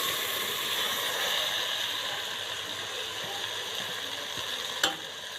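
Cooked pasta for Egyptian koshari being stirred in a pot with a little oil, a steady soft sizzle with faint scraping and stirring movements, ending in a single sharp clink near the close.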